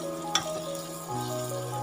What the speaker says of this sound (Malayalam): നമ്മൾ മുന്തിരി വറുത്ത് കോരിയിരുന്നു.